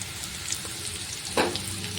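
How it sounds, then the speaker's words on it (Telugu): Bitter gourd slices fry in shallow oil over a low flame, a steady soft sizzle with a brief louder crackle of spattering near the end, close and alone. "ఇవి ఇంకొంచెం బాగా ఫ్రై అవ్వాలి లో ఫ్లేమ్లో పెట్టుకొని నిదానంగా"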